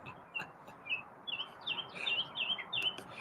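Small birds chirping outdoors, a quick series of high bright tweets and twitters overlapping one another, moderately close over a low steady background hum.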